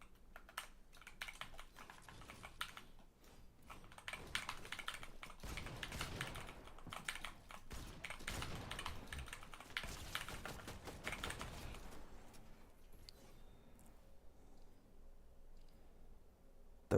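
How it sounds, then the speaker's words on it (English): A cheap computer keyboard clatters under steady typing, with rapid, uneven clicks close by and fairly quiet, continuing alone for the whole stretch before thinning out near the end. "Hearing your keyboard click is nice, man."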